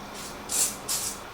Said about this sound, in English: sprayed anti-splatter